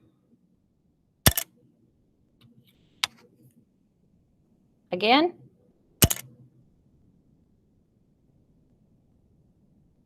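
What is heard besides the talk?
popsicle stick dropping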